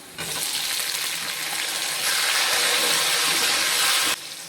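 Sliced onions frying in a pan of oil for a Tamil paruppu urundai kulambu, a dense steady sizzle close to the mic that swells louder halfway through, then drops back near the end.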